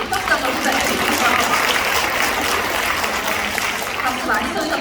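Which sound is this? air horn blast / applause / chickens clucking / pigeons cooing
applause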